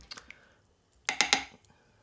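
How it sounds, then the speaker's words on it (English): A spoon scrapes and clinks in a pot of slow-cooked spring chicken, a few quick knocks and then a cluster of three sharp clanks, close and clear against near silence. "I'm going to give it another stir."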